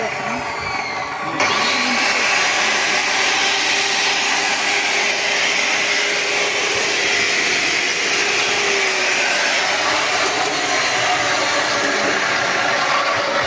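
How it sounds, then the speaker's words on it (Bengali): A DCK brand rod cutting machine with 100% copper wire motor, its loud steady high-pitched whine and grinding roar running continuously after a brief start-up. "এটা হচ্ছিল আপনার রড কাটার মেশিন কিংবা থাই কাটার মেশিন"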